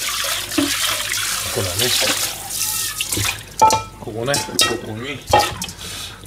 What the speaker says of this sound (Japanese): 鶏ハムの汁を入れちゃいましょう。